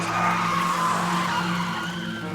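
Car tires skid and squeal as the wheel is yanked hard onto the shoulder in a downpour, a loud continuous screech with engine drone underneath, no talk.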